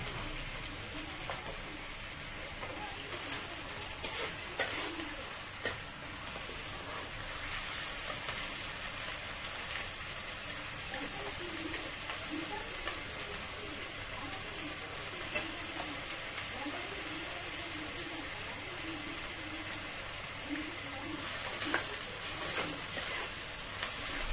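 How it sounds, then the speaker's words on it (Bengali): A masala of ginger paste and grated tomato fries steadily in a pan, a quiet continuous sizzle with occasional stirring scrapes and no voices. "মশলাটা খুব ভালো করে ভাজা হয়ে গিয়েছে।"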